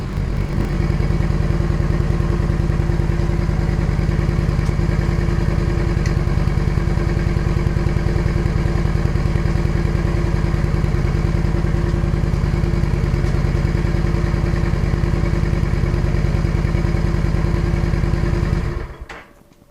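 A Royal Enfield motorcycle engine idles steadily while warming up in a garage, a loud, close, continuous thumping drone with mechanical clatter, running alone until it cuts off right at the end.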